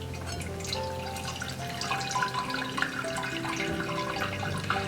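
Water dripping and trickling from date pulp wrapped in a cloth for date honey, a steady close wet patter falling into a dish, with no talking.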